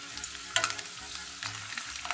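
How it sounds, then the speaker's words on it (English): Garlic frying in oil for salsa macha, a steady close sizzle with a bright crackling hiss and occasional louder bursts as it stirs. "So you can see that it's starting to sizzle a little bit."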